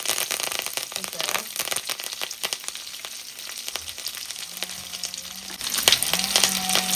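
Garlic and urad dal fry in hot oil for a tempering, crackling and sizzling in quick bursts with occasional stirring scrapes and a louder spatter near the end, while someone speaks.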